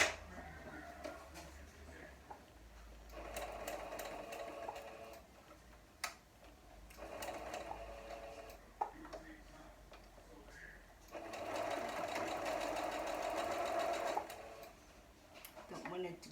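Sewing machine stitching the final seam of a quilt block of half-square triangles, running in several steady bursts with pauses between, under intermittent talk.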